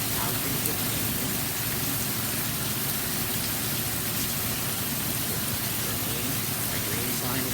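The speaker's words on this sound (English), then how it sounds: "The rain, which was furious a moment ago with hail, is getting calm." Steady, dense rain easing off after a hailstorm: an even, continuous hiss that stays at constant strength throughout, with no distinct drops or pauses.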